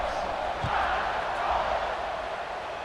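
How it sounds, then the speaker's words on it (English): Stadium crowd at an American football game buzzing just before a kickoff: a loud, steady wash of murmuring voices and cheering that fills the whole stretch without letting up. "this crowd is buzzing after that last score"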